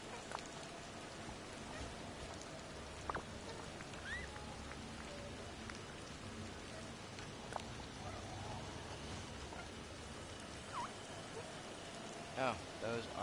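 Steady rain pattering on surfaces in a video game, a soft continuous hiss with occasional small clicks and chirps, fairly quiet and unbroken.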